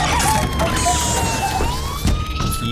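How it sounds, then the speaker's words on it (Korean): A siren wails with a rising and falling pitch, loud and close, over a noisy low rumble, from a Korean drama. "그런데 사이렌이 울려 퍼졌고"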